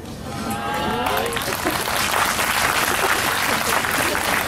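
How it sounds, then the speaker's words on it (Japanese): Audience applause and cheering after a speaker at a jazz concert at Kanazawa Jazz Street, loud sustained clapping from a crowd that starts abruptly and holds steady, with faint talk at the very start. "このなぜか俺が話し終わると拍手が起きるっていう現象は何なんですかね"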